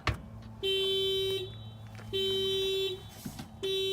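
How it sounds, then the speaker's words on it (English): A 2018 Honda Civic's car alarm, set off by opening the inside door handle, blares nearby in three long, steady electronic tones separated by short gaps. "It sounds the alarm when you open the thing from the inside"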